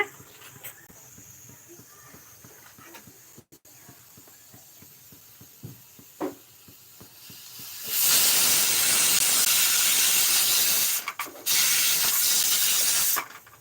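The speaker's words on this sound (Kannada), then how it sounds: "ನೋಡಿ ವಿಸಿಲ್ ಬರ್ತಾ ಇದೆ" Pressure cooker on the stove whistling while cooking avarekai saaru, quiet ticking and small clatters first, then a loud, sustained steam hiss bursting out and holding for several seconds with a brief break.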